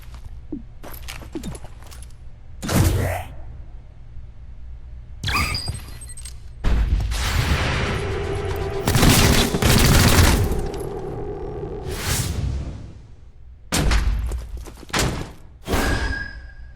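Gunfire and explosive impacts in the video game XCOM: Chimera Squad: loud bursts of shots and heavy thuds, with a sustained rattling stretch in the middle and scattered blasts toward the end.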